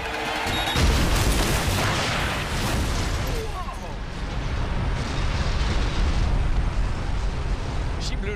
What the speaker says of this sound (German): Irre Explosion.